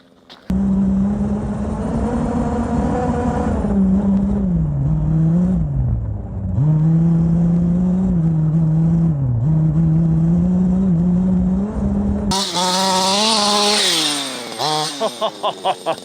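A 32cc gas-powered Losi DBXL RC car engine runs with a loud, buzzy two-stroke drone that rises and dips in pitch with throttle blips, then revs harder and sputters into choppy pulses at the close.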